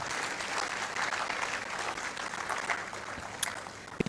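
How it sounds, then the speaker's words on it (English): Audience applause at a registrar's management seminar, a steady wash of many hands clapping from a sizeable crowd, fairly distant and even throughout with a couple of sharper claps near the end. "Please, another round of applause."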